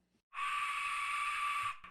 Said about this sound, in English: So the Mexican death whistle. Yeah, the Aztec death whistle.